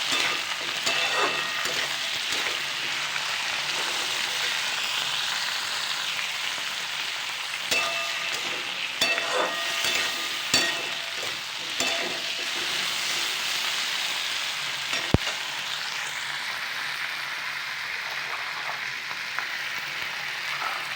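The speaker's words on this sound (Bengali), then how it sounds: "এবার ভালো করে পেঁয়াজ আলু টমেটো একসাথে ভেজে নেবো লাল লাল করে" Onion, potato and tomato fry together in a pan with a steady, dense sizzle throughout, broken by occasional stirring scrapes and one sharp utensil tap near the end; no voices.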